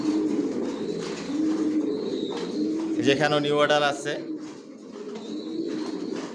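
Racer pigeons coo inside a loft, repeated soft throaty rolls close by, while someone talks over them and a brief louder call breaks in midway.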